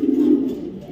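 A young racing pigeon from a club loft gives a single close, loud, low coo that fades within a second, with no voices.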